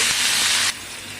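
Potatoes dropped into hot oil give a loud, dense hiss that lasts a little over half a second and then drops to a softer, steady sizzle, close by and with no talk.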